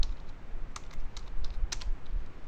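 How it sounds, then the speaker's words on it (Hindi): Keys on a computer keyboard clatter in a quick, irregular run of light clicks while someone types a short phrase, close and moderately soft over a low room hum. "हम लोग कीबोर्ड के ज़रिए टाइप कर रहे हैं।"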